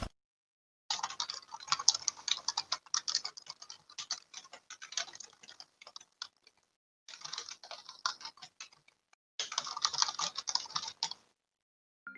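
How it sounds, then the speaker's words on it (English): Rapid keystrokes clatter on a computer keyboard in three bursts separated by short pauses, close and fairly loud, with no voices. "I'll type that in the chat"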